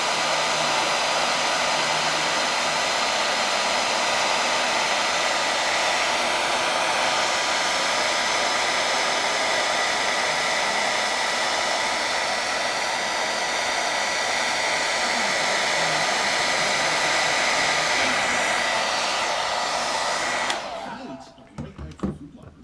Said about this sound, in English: Just getting it good and warm with a hair dryer.